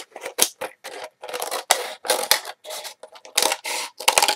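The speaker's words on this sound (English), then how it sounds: "And then I take a pair of scissors to cut it out." Scissors cut a plastic water bottle with a rapid series of crisp snips and crunchy scraping strokes, close up and loud, with no talk.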